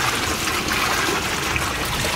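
Fresh water poured over cut mullet bait, a steady close splashing and trickling stream that runs without pause, with no talk over it.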